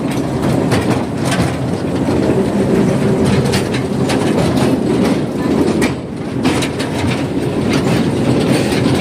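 A moving train rumbles loudly and continuously, with rhythmic clickety-clack from the wheels on the rails and a low, heavy undertone.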